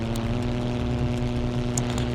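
A propeller fighter plane engine in 303 Squadron: Battle of Britain drones steadily and loudly, a constant throbbing roar with no pauses.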